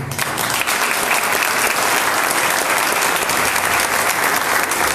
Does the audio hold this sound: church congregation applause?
yes